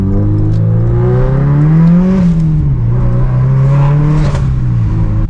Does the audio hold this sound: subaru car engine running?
yes